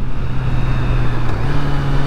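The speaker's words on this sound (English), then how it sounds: "you can see here as we hit the off ramp here, smooth downshifts before the turn." Honda motorcycle fitted with the E-Clutch system, downshifting on a highway off-ramp: a steady, loud engine drone with a pitch step partway through as the gear changes, no talking.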